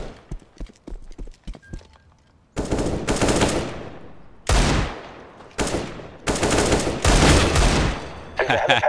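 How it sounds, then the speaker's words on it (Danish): Rapid automatic gunfire rips through a CS:GO zombie outbreak mission in long loud bursts separated by short pauses, with sparse clicks and footsteps between volleys. "Der er en, der skyder for mig."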